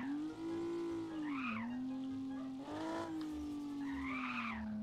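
A video-game car drifts through a corner with sustained, loud tire squeal that wavers in pitch, swelling and dipping over a few seconds with no talk over it.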